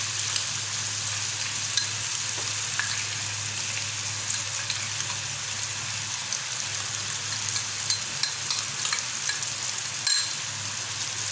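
Chicken fries with yogurt and masala as it is stirred, giving a steady close sizzle with light crackles and occasional scrapes of a spoon, no voices.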